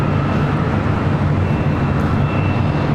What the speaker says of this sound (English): 787-8 Dreamliner possibly heading up here for a north side takeoff